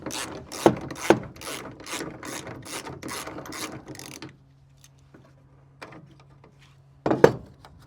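Ratchet wrench turning on a steering column of an Avenger GT12 kit car, a rapid run of about a dozen sharp clicking strokes, close and clear, then quiet with a faint hum and one final burst of clicks.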